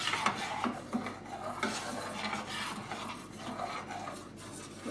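Gelatin, cream and yogurt stirred together in a pot with the heat off, a spoon scraping and swishing around the pot in close, repeated strokes.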